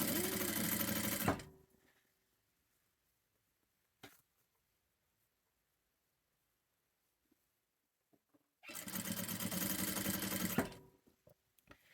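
An industrial sewing machine stitches a headband seam in two close, loud bursts of rapid mechanical chatter, each lasting about two seconds, separated by a long quiet pause with a faint click.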